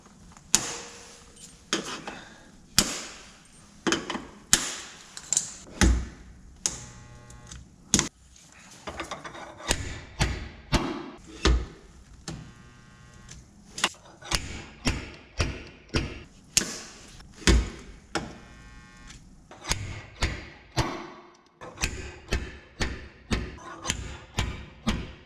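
Hammer and dolly striking a dented car rocker panel, sharp repeated metallic blows in quick irregular bursts with brief pauses between series, close and fairly loud.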